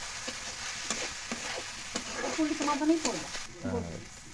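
Meat for momos frying in a pan, a steady close sizzle broken by repeated stirring scrapes and clicks, with a short voice heard near the end.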